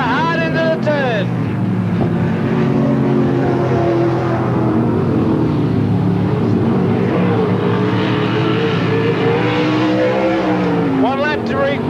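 Sprint cars roar around Parramatta City Raceway at a 1985 meeting pitting Team Kinser against Australia's best, including the number 75 Valvoline car driven hard into a turn; loud, continuous engine drone with rising and falling pitch under steady commentary.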